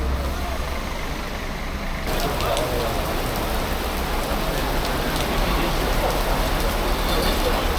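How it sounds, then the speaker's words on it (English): Heavy rain pours down on a football stadium in Bergamo in a steady, dense hiss that grows stronger partway through, with distant crowd and traffic noise beneath. "The sheer amount of rain."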